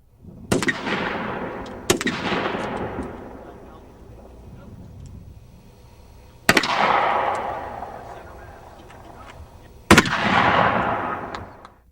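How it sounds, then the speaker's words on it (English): Four sharp gunshots from a field rifle, shotgun and 9mm handgun at a range on a U.S. Marine base, spaced irregularly, each cracking loudly and then echoing away. "Separate pieces of panel were tested with field rifle, shotgun, and 9mm handgun."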